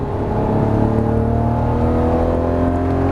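Lamborghini Murciélago accelerating out of a turn on the Las Vegas Motor Speedway track, its engine a loud, steady roar with rising harmonics, close and unbroken throughout.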